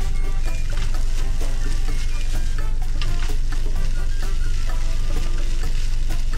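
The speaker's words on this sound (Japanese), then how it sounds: "ここでシャッシャッシャッシャッシャッって振ったらどうなんねんっていうだけやな。" Fried rice being stir-fried and tossed in a pan, slightly scorched. It gives a loud, continuous close-up sizzle with scraping and rattling stir strokes throughout and no talking.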